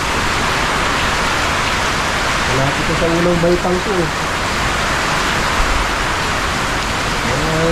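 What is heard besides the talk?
heavy rain with strong wind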